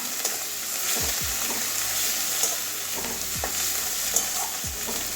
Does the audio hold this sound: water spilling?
no